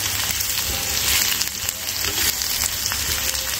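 Steamed potatoes for Kashmiri dum aloo fry in hot oil in a pan, giving a loud, continuous close sizzle with faint stirring scrapes throughout.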